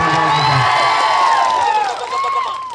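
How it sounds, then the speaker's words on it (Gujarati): A large crowd at an Aam Aadmi Party political event in Panchmahals, Gujarat, applauding, cheering and shouting loudly, many overlapping voices and whoops close up, easing slightly toward the end. "જોરદાર તાળીઓ"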